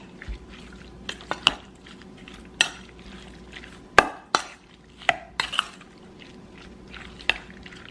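Spoon clinking and scraping against a bowl while steak fajita marinade with Montreal steak seasoning is stirred, with a series of sharp, separate knocks over a quiet background and no talking.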